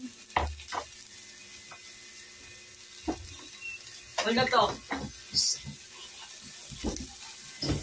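Cooking oil crackles and sizzles in a pan before cabbage goes in, a soft, patchy spitting hiss broken by scattered clicks and knocks, with a person talking over it at times.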